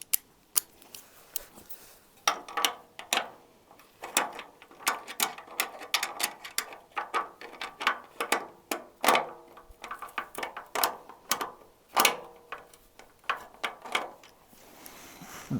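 Bolts being worked onto a 1963 Reliant Regal 3/25 with a ratchet, close, rapid clicking strokes in uneven bursts that continue throughout.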